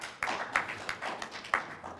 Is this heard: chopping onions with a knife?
no